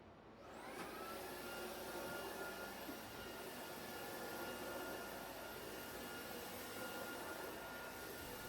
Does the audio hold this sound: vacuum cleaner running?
yes